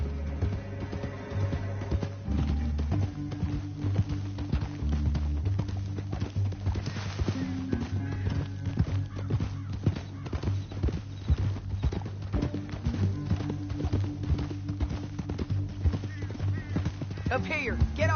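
Horses galloping in the video game Red Dead Redemption, a rapid continuous clip-clop of hooves under a steady musical score, running throughout, with occasional talking over it.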